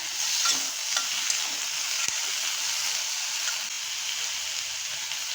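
Mixed vegetables with onions and tomatoes being stirred in a pan, a continuous soft sizzle with scattered scraping and light clinks from stirring, one sharp tap midway, fairly quiet and steady.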